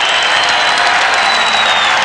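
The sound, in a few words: crowd applause for the Socceroos leaving Sydney Sports Ground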